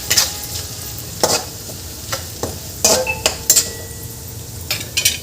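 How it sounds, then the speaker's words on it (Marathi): Masala mixture is stirred in a pan for Nagpur-style sambar vadi, with a soft sizzle underneath and repeated sharp scrapes and clinks of a spoon against metal, irregular and close. "मसाला एकदा छान मिक्स करून घ्यायचा यामध्ये."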